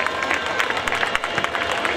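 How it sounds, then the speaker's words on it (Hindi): Brief burst of hall applause and crowd murmur at an ex-servicemen association function, steady clapping filling the whole moment. "तालियां जोरदार बननी चाहिए"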